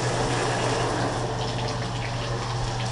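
A shower runs in a house in Plano, Texas, during a home inspection: a steady, close hiss of spraying water that holds unbroken and fairly loud for the whole stretch.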